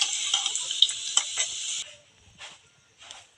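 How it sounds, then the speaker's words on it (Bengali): Potatoes frying in oil until browned, a bright crackling sizzle for a couple of seconds with a few spoon taps, then dropping to faint scattered hissing. "আলুটা আগে আমি প্রথমে একটু লাল করে ভেজে নিচ্ছি"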